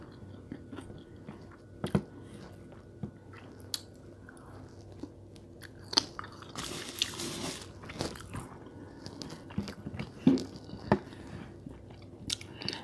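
Cold McDonald's fries being bitten and chewed up close, soft crunches and wet chewing in an irregular rhythm with a few sharper bites, no talking.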